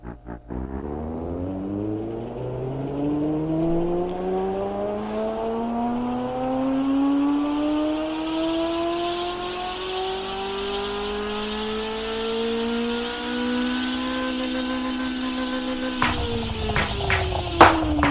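A car engine breathing through a straight-through 4-inch exhaust with no catalytic converter and no second muffler revs steadily higher over many seconds, a loud rising drone, then cuts off abruptly into a few sharp clacks.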